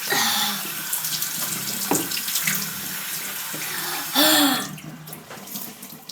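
A bathroom tap runs into a sink while makeup is washed off a face, a loud steady water rush with splashes and interruptions, surging again near the end before quieting.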